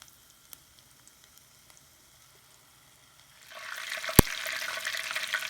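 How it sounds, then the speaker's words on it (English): Shrimp tempura goes into hot oil, and after a quiet start a bubbling sizzle swells and holds steady, marked by one sharp click. "you cook about 2 to 3 minutes until shrimp start floating and a nice a little bit of light brown color"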